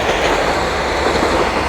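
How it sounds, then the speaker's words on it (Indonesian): Train passing by in the Japanese countryside, a loud continuous rumble with rhythmic wheel clatter filling the whole moment, close to the listener. "Tuh, ada kereta lur lewat."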